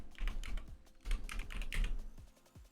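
Rapid typing on a computer keyboard while naming a file in Photoshop, a close, busy run of key clicks with short pauses, with no voice over it.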